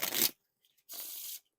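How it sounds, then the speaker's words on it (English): Star Wars playing cards by Theory, silver light side deck, get riffle shuffled twice in quick bursts, each a crisp, close, fluttering rip of cards, with a short pause between. "the first couple riffles, they're not going to feel like the smoothest"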